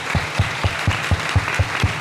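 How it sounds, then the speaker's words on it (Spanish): An audience at a medical lecture on heavy metal poisoning claps in a steady, even rhythm, about four beats per second, loud and close, with no talking. "Estas titanes se merecen un gran aplauso"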